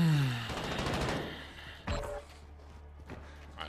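Rapid automatic gunfire from Call of Duty Warzone crackles loudly in a dense burst over the first second and a half, then a heavy thump and a few scattered lighter shots follow at a distance.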